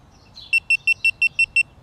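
A GoPro Hero 3+ Black edition camera powers off with seven short, evenly spaced high electronic beeps in quick succession, close and clear over a quiet background.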